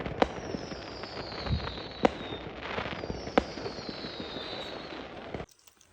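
Fourth of July fireworks burst at a distance, with sharp cracks and booms, whistling trails and crackle at a steady pace before going quiet.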